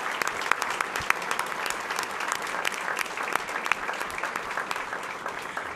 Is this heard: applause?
yes